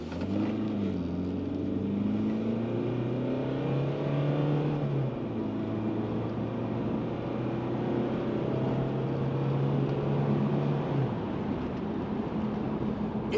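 Car driven at full throttle, engine drone rising steadily in pitch through a gear, dropping at a shift, then climbing again and holding a strained tone heard from inside the cabin, with no voices.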